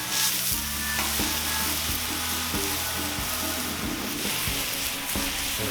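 Chicken sears on a Cuisinart 360° griddle cooking center with a continuous close sizzle and crackle, while a steady tonal hum runs underneath and occasional scraping clicks from a spatula break through; no talking.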